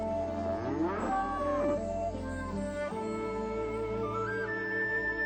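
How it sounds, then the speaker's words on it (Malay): A water buffalo gives a deep, drawn-out bellowing moo, heard over a continuous tonal backdrop with no talking. "kerbau"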